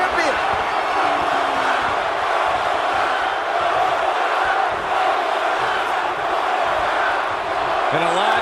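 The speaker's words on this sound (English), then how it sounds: "a live crowd doesn't get any hotter than this" Arena crowd in WWE 2K24 during a Triple H versus Brock Lesnar championship match, a loud, dense, sustained roar of cheering throughout, with commentators' voices faintly mixed in.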